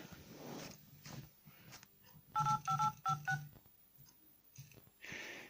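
A Motorola e 2nd generation phone keypad beeps out a quick run of about six dialing tones in close succession, faint and close, between soft handling clicks.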